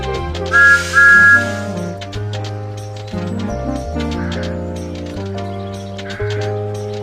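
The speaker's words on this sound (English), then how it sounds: "This is Thomas's whistle." Thomas the Tank Engine's train whistle blows in short, tuneful toots over cheerful background music, clear and prominent.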